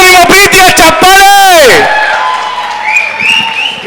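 An audience at a sangeeth wedding celebration breaks into scattered, moderate clapping right after a loud amplified voice on stage finishes speaking.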